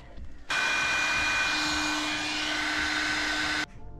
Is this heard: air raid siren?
no